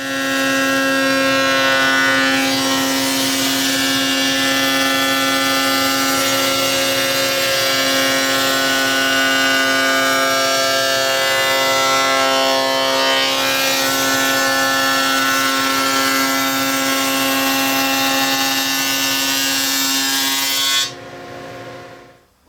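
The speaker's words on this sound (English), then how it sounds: "So I'm going to get the dado blade installed in my table saw." A table saw fitted with a dado blade cuts a rabbet in wood for a vegetable bin. A loud, sustained, tonal whine holds steady, then drops away abruptly near the end.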